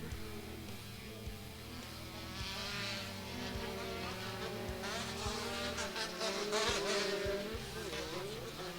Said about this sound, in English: And they're burping on the throttle.